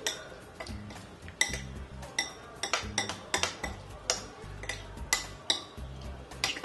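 A spoon works through bruschetta topping dressed with plenty of olive oil, making repeated clinks and taps against a bowl in an uneven rhythm, close and fairly quiet, with no talking.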